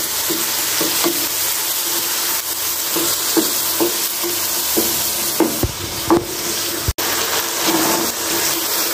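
Ground spices and tomatoes sizzle steadily in a pan while being stirred and mashed for a spiced mutton brain dish, with a continuous fry hiss and regular scraping strokes, close and fairly loud with no talking.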